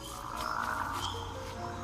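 Endangered frogs near the Cotopaxi volcano croak in a steady chorus, with some clear, fairly close calls repeating over a soft background hum.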